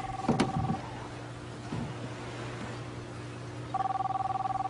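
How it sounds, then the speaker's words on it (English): A telephone rings in a quiet indoor scene, a short electronic ring near the start and a steady repeating ring toward the end, with a low background hum between. "Isn't that your phone? Aren't you gonna answer it?"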